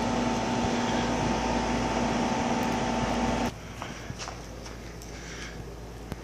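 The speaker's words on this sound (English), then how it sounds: "over that air conditioner running." A window air conditioner hums steadily and loud beside an outdoor grill on a 95-degree day, with a strong tonal drone that cuts off abruptly partway through, leaving quieter background and faint clicks.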